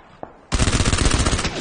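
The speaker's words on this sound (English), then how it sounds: "Someone else shooting." Sustained automatic gunfire in the zombie game Dying Light, a dense continuous burst of rapid shots starting abruptly after a brief quiet moment and a single faint click, loud and close.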